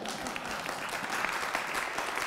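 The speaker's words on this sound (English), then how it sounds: "If you agree, you might applaud." Audience at a Liberal International lecture claps steadily, a dense, even wash of applause lasting the whole stretch, fairly loud, with no voices over it.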